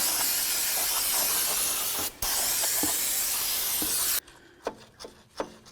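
A long, steady spray hiss from an aerosol can of cleaner onto a Dodge Ram 1500 brake backing plate, briefly interrupted, then stopping, followed by a few light taps and scrapes nearby.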